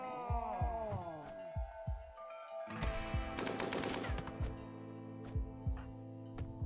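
Quick bursts of gunfire from the Rimworld video game, fairly quiet and mixed with soft thumps and ringing musical tones, with no one talking.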